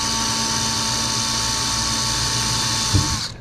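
A drill bores steadily through the welch plug on a Honda Navi carburetor, a continuous high whine that holds level throughout and then breaks off with a brief thump as the bit punches through near the end.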